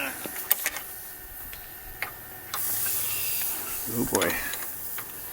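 A Mini-Ductor Venom induction heater works on a rusted part of an antique horse-drawn road grader, giving a close, steady sizzling hiss with scattered ticks and a brief spoken exclamation.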